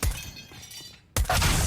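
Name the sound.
molotov shattering in video game Counter-Strike: Global Offensive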